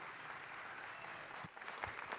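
Steady applause from a city council meeting crowd, clapping continuously throughout, fairly faint and distant.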